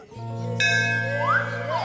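A bell in a comedy film rings with a clear metallic strike and a long sustained shimmering tone, near and fairly loud, with no talk over it.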